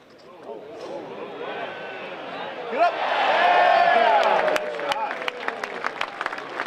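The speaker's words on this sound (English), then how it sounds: "patrons are cheering good shots" Golf patrons at a Masters practice round cheering and whooping, a crowd roar swelling to a loud peak midway, then breaking into scattered clapping, with voices calling out over it.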